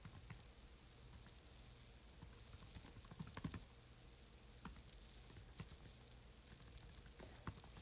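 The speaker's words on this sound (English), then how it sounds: "Sometimes I'm not that bad at typing." Quiet keystrokes on a computer keyboard while entering data into a spreadsheet program, soft irregular clicks over a steady low hum.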